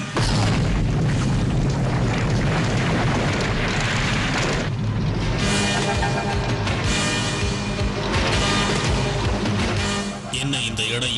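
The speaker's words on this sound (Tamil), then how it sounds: "அந்த எரிமலை வெடிச்சு சிதறிக்கிட்டு இருக்கு" A cartoon volcano erupts and explodes in deep rumbling booms and bursts layered over a roaring, hissing wash, loud and sustained throughout, with a brief lull near the end.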